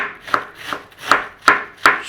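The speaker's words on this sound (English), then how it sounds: "Thinly grating or slicing the cabbage" Cabbage sliced thinly with a knife for Honduran pickled slaw, a run of crisp, close cuts in an uneven rhythm, each one a sharp crunch followed by a soft scrape. No voices.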